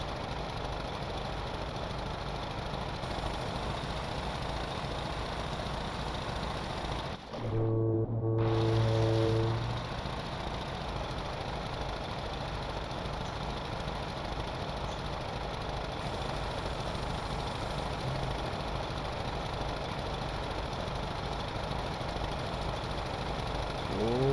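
A large ship engine in the Stormworks game, stated to need fixing, runs at idle as a steady broadband rumble, loud and continuous, with a short mechanical clunk and hum partway through.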